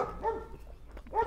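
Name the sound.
dog barking at an animal shelter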